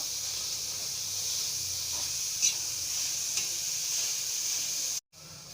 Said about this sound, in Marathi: कांदा मी परतून घेते छान लालसर होऊ द्यायचा थोडा